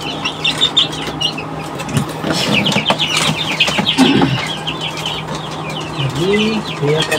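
Chickens in a backyard coop cluck and call over steady outdoor ambience, with bird chirps and occasional wing flaps mixed in, moderately loud and close.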